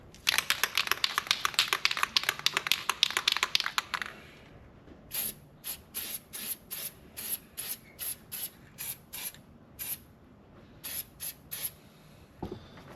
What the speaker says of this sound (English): So I'll go ahead and get this sprayed down real quick.